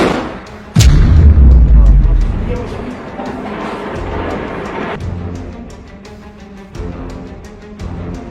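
Gunfire in combat footage from the Israel–Hamas war, attributed to a sniper rifle: one sharp, loud crack with a heavy booming tail, then quieter rumbling and further distant reports under a narrating voice.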